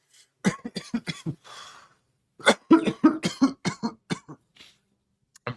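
Repeated harsh coughing in rapid bursts after inhaling thick vapor, close to the mic, with a short pause and a breath before another fit of coughs.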